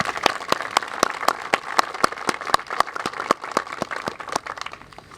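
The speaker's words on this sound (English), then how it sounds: "Let's give another round of applause, please." Crowd applause at an outdoor Charters of Freedom dedication ceremony in Bolivia, North Carolina, steady and fairly loud with sharp individual claps standing out, continuing throughout before thinning near the end.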